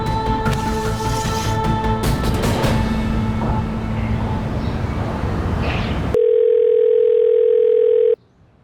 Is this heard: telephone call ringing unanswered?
yes